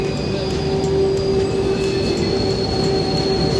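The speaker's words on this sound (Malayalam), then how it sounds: "ഇതാണ് നമ്മുടെ ട്രെയിൻ KTX." A KTX high-speed train in Korea rumbles loud and close in a continuous roar, with a steady high whine from the wheels and faint rhythmic clicks from the track, and no one talking.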